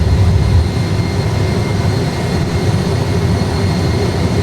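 Airliner jet engines roaring loud and steady through the takeoff roll and rotation, a dense constant rumble from inside the cockpit with no talk audible.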